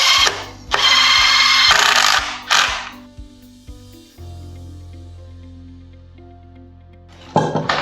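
Power drill driving screws into a bracket for a stairwell work platform, loud whirring bursts as each screw bites, followed by the motor winding down in a fading hum before another short whir at the end.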